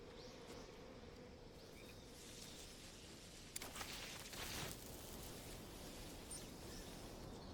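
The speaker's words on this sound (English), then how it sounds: "those are bees" Swarm of bees buzzing steadily in a Metal Gear Solid Delta: Snake Eater jungle scene, a low continuous drone over ambient game noise, with a brief sharper burst midway.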